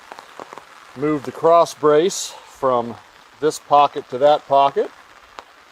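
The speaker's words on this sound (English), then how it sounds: "it's raining and I got an umbrella here" Rain pattering on an umbrella held outdoors beside a used Wood-Mizer LX sawmill, a steady light tapping under someone talking close up.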